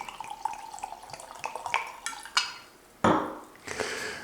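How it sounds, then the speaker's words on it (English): Homemade strawberry rhubarb wine, bottled the day before, is poured into a glass. Scattered clinks of glass and bottle are followed by two loud bursts of liquid splashing close by, with no voices. "let's go ahead and pour that first glass"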